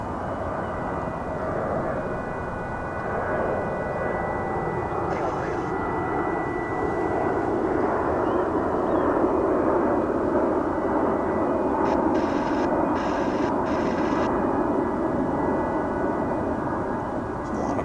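Jet airliners take off at DFW airport, a sustained loud engine roar rumbling steadily throughout with a few faint higher whines layered over it.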